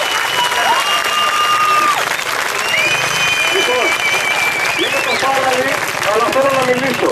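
Crowd at a street protest applauds steadily throughout, a dense wash of clapping with voices rising over it and some shouting.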